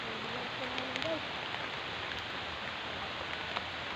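Steady heavy rain falls in a Philippine typhoon, a constant broadband wash of downpour nearby, with a brief faint tonal call or voice-like sound early on over the rain.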